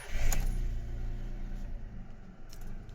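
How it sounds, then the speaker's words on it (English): A VW Audi car engine starts with a brief cranking burst and catch near the start, then settles into a low, steady idle, recorded close with a faint rattle. "Soon as I start the car"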